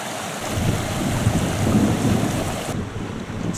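The Ulakhan-Tsikaryr, a mountain river in the Verkhoyansk Range, gives a loud, broad, continuous rushing roar close by with no voices, and the sound drops abruptly near the end.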